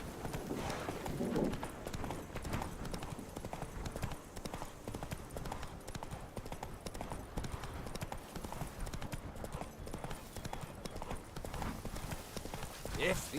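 Horse hooves clip-clop steadily in The Witcher 3 while riding, a continuous rhythmic trot mixed with game ambience, occasional character voices speaking over it.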